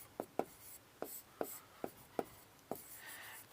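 A pen scratches out notes on paper, a series of short, quiet strokes with small pauses between them, close and soft with no voices.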